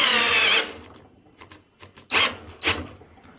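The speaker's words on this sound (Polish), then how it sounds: "Moja wkrętarka znowu dymi tak przy okazji." A cordless drill-driver powered by a Parkside 4Ah smart battery with 21700 cells whirs loudly for about half a second, then gives two brief, sharp bursts of motor noise after a pause.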